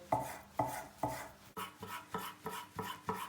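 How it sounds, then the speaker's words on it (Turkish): Steady knife chopping of chicken meat on a board, a dozen evenly spaced thuds at a brisk rhythm, close up and fairly soft, with no voices. "Tavuklarımızı da elimizden geldiği kadar ince doğrayacağız."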